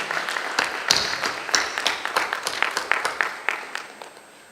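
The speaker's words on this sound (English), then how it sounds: "a big, big, big round of applause to one and all graduating today" Applause at a college graduation ceremony rises in a quick burst of clapping, then thins into scattered, separate claps that fade out over a few seconds, fairly near and heard alone.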